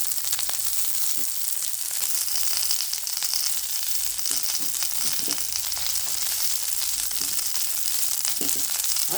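Chopped garlic frying in hot oil after onions in a pan gives a loud, dense, continuous sizzle with occasional stirring scrapes and no talk.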